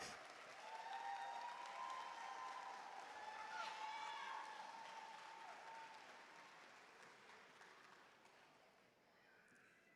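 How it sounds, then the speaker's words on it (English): A school commencement audience applauds steadily, with a few shouts over the clapping, then the sound gradually tapers off toward the end. "Clap it up, clap it up"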